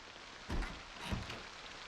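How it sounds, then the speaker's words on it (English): Steady, faint rain hiss in a survival video game, a soft continuous wash of falling drops with two slightly louder patters, heard alone. "Rain. Just what we needed."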